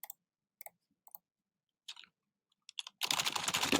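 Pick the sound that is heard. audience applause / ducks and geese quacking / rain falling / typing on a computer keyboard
typing on a computer keyboard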